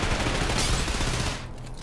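A Kriss Vector SMG fires a rapid, dense burst in the video game Trepang2, loud and continuous before cutting off abruptly near the end.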